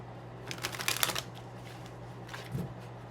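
A deck of tarot cards is shuffled close by, with a quiet flurry of papery riffling flicks early on and one shorter burst of card noise a moment later. No one speaks.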